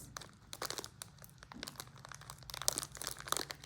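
Faint crinkling and rustling of a thin plastic bag as a Kivi KS 6905 handheld heat sealer is run along it, with soft irregular crackles close up and no talking.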